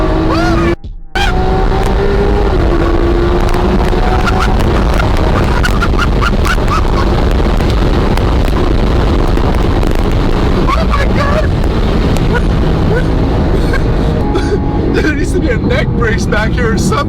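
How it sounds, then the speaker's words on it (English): A Lamborghini Aventador SV accelerates hard while racing, its exhaust roaring loudly and continuously with wind buffeting through an open window and rapid pitch changes through gear shifts. "We're lining up here with the window down so you guys can hear this exhaust."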